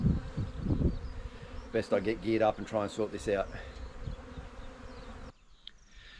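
Honey bees buzzing around hive boards during a hive removal, a steady insect drone running beneath a man's nearby speech, then thinning out at the end.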